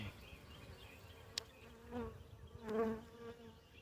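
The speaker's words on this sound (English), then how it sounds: "Just the worker bees working on it." Honey bees buzz around a backyard hive during an inspection, a steady insect drone with several individual bees swelling louder as they fly close past, one especially near pass near the end.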